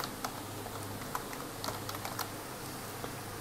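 A project name is typed on a computer keyboard in Edius video editing software, a quick burst of close, light key taps that comes and goes across a few seconds, with no talk.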